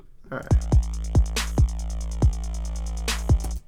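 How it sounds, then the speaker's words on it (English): A deep, sustained synth hum drones under a trap EDM drop, joined by a regular series of punchy low kick thumps and two bright noisy hits, loud and steady throughout. "This is trap, so we need a little bit of a hum."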